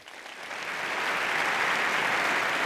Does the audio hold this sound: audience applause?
yes